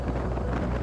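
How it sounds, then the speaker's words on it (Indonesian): Wind buffets an outdoor microphone during motorcycle touring on Flores, making a steady, dense low rumble that fills the whole short stretch with no talk. "Oh, angin."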